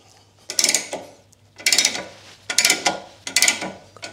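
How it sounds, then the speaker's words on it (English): A ratchet wrench set to reverse lowers a jack under a Tesla Model Y or Model 3 in a home garage. Four loud, close bursts of rapid clicking arrive about once a second, with a faint steady hum between them and no talking. "So back to this ratchet here, ratchet wrench, flick it across so that it's in the reverse position, and then we just basically lower it down."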